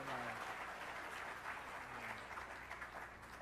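Applause at a spring closing meeting for staff and faculty, a dense continuous clapping from a crowd that holds steady throughout, with faint voices mixed in.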